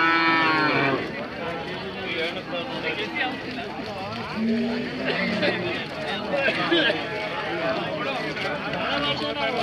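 Cows, likely Hallikar cattle, lowing at a busy Monday cattle fair market by a temple, with repeated moos mixed into close, constant human chatter and talking.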